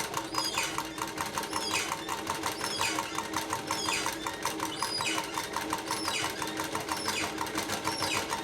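A sewing machine runs steadily, stitching a thin seam on fabric with the presser foot lowered, its fast even needle chatter close and continuous throughout with no talking over it.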